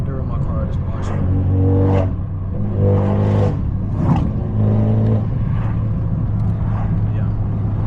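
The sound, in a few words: straight-piped catless 530 car exhaust while cruising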